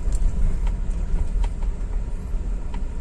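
A Suzuki Escudo rolls along in second gear with no throttle, giving a low, steady engine and road rumble heard from inside.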